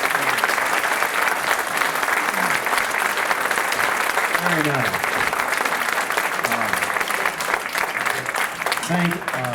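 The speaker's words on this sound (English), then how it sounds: "They deserve a round of applause." Audience applause for the candidates at a Santa Barbara supervisors forum held in a church hall, a steady, dense clapping from a sizable crowd filling the whole stretch, with someone speaking briefly over it.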